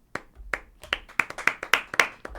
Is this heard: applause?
yes